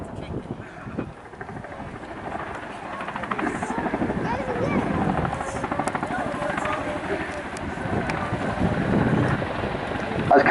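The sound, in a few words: 16.5-ton helicopter landing at Duxford air show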